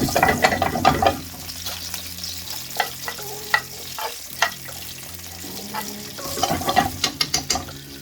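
Black mustard and cumin seeds sizzle and crackle in hot oil, loudest in a burst at the start and again near the end, with rapid popping under steady background music.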